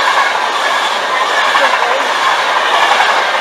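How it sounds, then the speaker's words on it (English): A Virgin passenger train on the Manchester Piccadilly to London Euston service rumbles past close by, a steady broadband roar of wheels and running gear with no pauses. "on the other side here is your Manchester Piccadilly to London Euston train"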